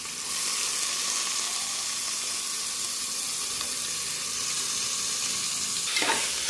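Goat trotters fry in hot oil with a continuous bright sizzle that holds steady throughout, and a brief scrape of stirring comes near the end.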